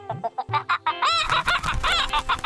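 Cartoon chicken, an oversized ostrich-like hen in a Bengali folk-tale village, gives a rapid run of loud clucks and squawks that swell into a longer excited crowing burst, alone with no talk.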